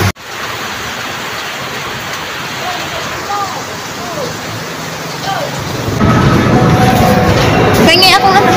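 Steady rain pours down at an outdoor street stall, a dense hiss that swells louder near the end, while people talk over it and occasional chirpy calls cut through.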